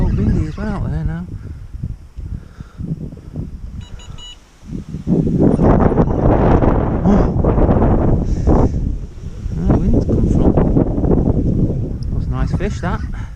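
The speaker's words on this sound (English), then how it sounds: "It's a bit old windy as well out there now." Wind gusts by a river buffet the microphone with loud rumbling bursts during a carp fishing trip from a boat, while someone talks over much of it.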